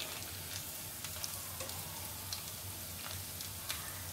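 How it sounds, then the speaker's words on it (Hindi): Vegetable rice balls sizzling in hot oil during a second fry, a steady fine crackle with soft pops scattered through, close and fairly quiet, no talking. "दूसरी बार मैं और फ्राई करती हूँ।"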